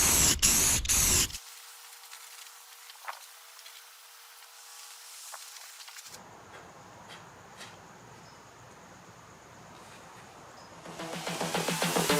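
A heavy clear coat is sprayed from a can over a metallic glitter paint job, giving loud hissing bursts at the start and end with a softer steady hiss between them.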